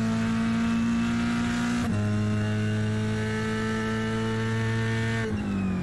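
A drag race car with an 800 hp big block Chevy and 16-inch wide rear slicks launches hard, its engine a loud sustained roar that drops sharply in pitch twice, like quick gear changes.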